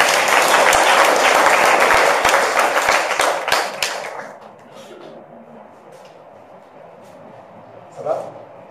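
A church congregation breaks into loud, dense applause and cheering for Jesus, holding strong for about four seconds before it fades to quieter room murmur, with a brief voice rising near the end.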